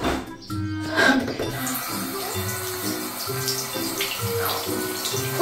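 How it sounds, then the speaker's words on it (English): Tap water runs steadily into a sink as a child's hands are washed at home, a continuous splashing rush with a few louder gurgles, under a faint background of other sounds. "Can you wash your hand?"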